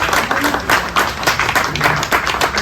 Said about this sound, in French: Je crois qu'on peut applaudir Bure.